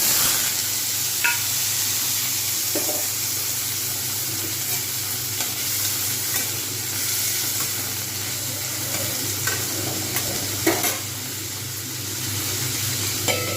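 Potatoes fry in a hot pan with cauliflower, a steady close sizzle and hiss with scraping stirs and occasional clinks of the spoon throughout.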